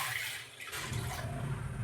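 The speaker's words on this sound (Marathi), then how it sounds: "आता पाणी टाकतं त्याच्यामध्ये" Water is poured from a vessel into a kadhai fitted with a stand for steaming dhokla, a short continuous splashing gush of moderate loudness.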